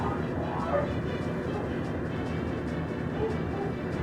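Dogs barking in the video game Skies of Arcadia on GameCube, a few yips over a steady, noisy game soundscape, with a voice talking in places.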